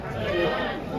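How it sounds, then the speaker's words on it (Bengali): Goats bleat amid a busy crowd at the Tebaria livestock market in Natore, Bangladesh, their calls blending with steady chatter and market noise. "পাঠা ছাগল ইতিমধ্যে স্ক্রিনে দেখতে পাচ্ছেন"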